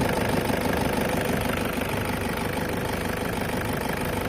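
A Toyota Innova engine with a check-engine fault runs at idle, a steady low rumble and hum with a faint rhythmic throb, close and constant, no voices.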